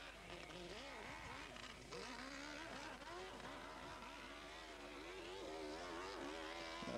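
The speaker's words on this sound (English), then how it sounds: "And this 120 brake horsepower 4-cylinder motor, he's using loads and loads of revs." A 120 brake horsepower four-cylinder engine revving hard during a French hill climb event, a buzzy rising and falling engine whine with repeated rev surges, heard faintly under a commentator's voice.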